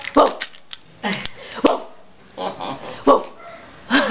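A person imitates a big dog with a series of short, loud barking yelps in bursts, close to the listener, with brief pauses between them.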